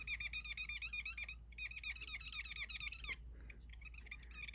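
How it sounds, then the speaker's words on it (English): Rapid, high-pitched squeaky scribbling in two bursts, a marker's brush tip rubbing back and forth on an acrylic block, close and fairly faint. "With the brush tip, scribble it on your acrylic block. A little squeaky there."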